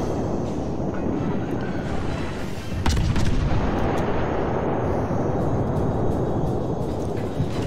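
Naval gunfire in the World of Warships video game: a loud, continuous battle din with a sharp booming salvo near the middle, heavy low rumble throughout and no talking.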